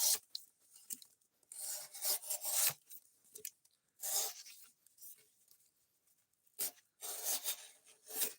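An Elmax steel knife blade is sharpened in repeated rasping strokes, bursts of scraping grit separated by short pauses, close and clear with no voices.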